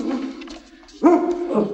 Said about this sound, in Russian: Кажется, собачий лай. Да, лай